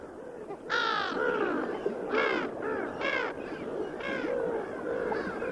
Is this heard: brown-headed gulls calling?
yes